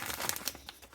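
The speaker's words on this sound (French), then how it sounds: "Et on va déballer ce petit paquet." A small gift package being unwrapped, with paper crinkling and rustling in quick irregular bursts, close and without talk.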